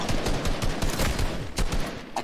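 Rapid gunfire in Fortnite, several bursts of shots crackling close and loud in a dense, continuous volley across the whole stretch.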